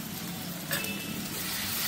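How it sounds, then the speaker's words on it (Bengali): Garlic added to onions already frying in a pan of oil, sizzling steadily with a brief stirring scrape partway through, close and continuous. "রসুনটা দিয়েছি, একটু নেড়ে নিলাম"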